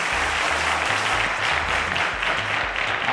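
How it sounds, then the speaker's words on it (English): Studio audience applause for a contestant on a televised maths quiz show, steady dense clapping throughout with a low music bed underneath. "A round of applause to Daniel."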